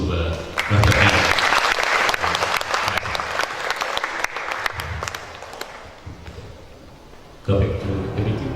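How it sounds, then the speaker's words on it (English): A conference audience claps for a presenter, with a strong burst of applause that gradually fades into scattered claps and murmuring, and then a voice speaks at the end. "Give applause to Dr. Anna."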